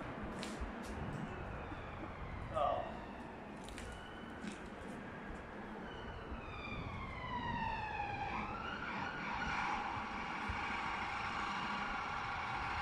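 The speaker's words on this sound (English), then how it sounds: "Sorry, it's an ambulance." An ambulance siren wails faintly in the distance and grows louder and rising in pitch as it approaches along a city street, over a busy outdoor background.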